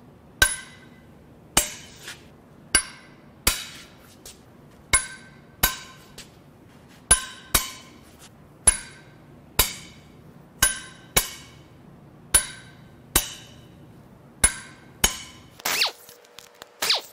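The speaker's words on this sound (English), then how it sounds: "Next, we'll crack the head bolts loose." Head bolts being cracked loose on a Jaguar 3.0 supercharged engine: a steady series of about seventeen sharp, close metallic snaps with brief ringing, spaced roughly a second apart, ending in a short clatter of handling noise, with no talking.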